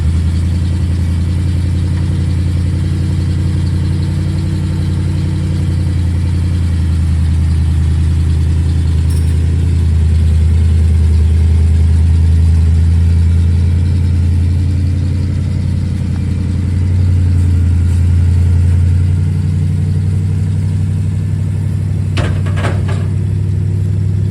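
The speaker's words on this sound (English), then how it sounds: "Truck always starts up like that. Boom, it's running." A 1974 Ford F250 truck engine runs steadily at a low, even idle, a loud continuous rumble with a brief clatter near the end and no talk over it.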